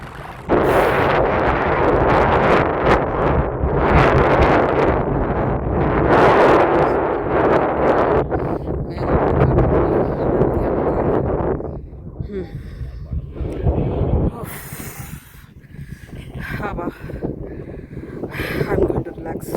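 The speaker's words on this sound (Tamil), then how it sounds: "சரியான சில்னஸ், சரியான காற்று." Strong wind roars across the Guthirayan mountain peak in the Aiyur Forest, buffeting the microphone in loud, continuous gusts that ease off toward the end.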